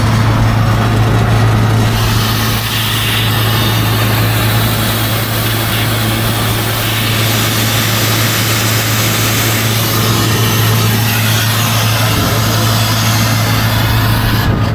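A steady, loud broadband hiss of R22 refrigerant escaping from a leak runs throughout with a constant low hum underneath.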